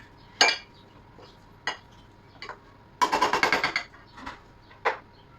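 Potatoes boiled soft are mashed with a masher in a pot: a few separate clanks, then a quick run of rhythmic metallic knocks and scrapes, followed by a couple more single clinks, close and alone.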